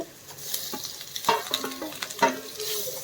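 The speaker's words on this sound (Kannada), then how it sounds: "ಎಗ್ ಹಾಕ್ಕೊಂಡು ಇದನ್ನ ತಿರುಗಿಸ್ಕೋಬೇಕು" Boiled egg pieces are stirred into egg roast masala in a pan, with soft sizzling under a few distinct spoon scrapes and knocks against the pan.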